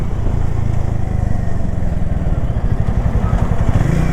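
Harley-Davidson X440 motorcycle engine thrums steadily while riding, a loud, close, continuous low rumble with a fine pulsing beat and slight rises in pitch near the end.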